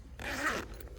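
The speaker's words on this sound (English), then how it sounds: "Then what I'm going to do is just open the zips" Zips on a tent-style greenhouse cover, laid flat on a lawn, are pulled open in one smooth, close rasping run lasting about half a second.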